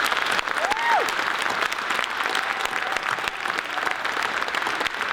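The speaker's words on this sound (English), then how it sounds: "let's welcome the panel with a round of applause," An audience claps steadily for a few seconds to welcome a discussion panel at an annual meeting, the dense indoor applause loud and sustained, with a brief voice or whistle-like tone near the start.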